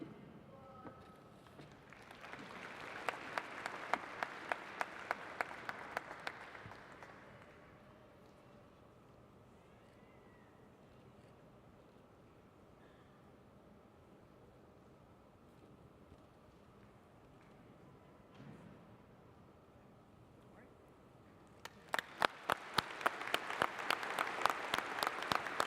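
A university spring commencement crowd claps for new Doctors of Education: a burst of applause early on fades into a long stretch of quiet room murmur, then a second strong wave of clapping swells at the end.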